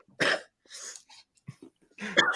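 A person coughs several times nearby, a sharp cough, a throat-clearing rasp, then a few short hacks and another harsh cough.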